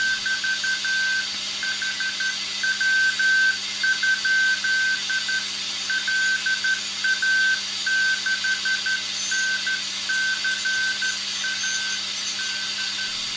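A WW2 Milorg agent radio keys out call signs in Morse, steady rhythmic tone pulses continuing through the whole stretch over a constant background hiss and hum from the receiver.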